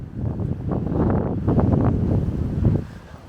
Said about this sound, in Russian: Погода сегодня солнечная, но достаточно ветреная.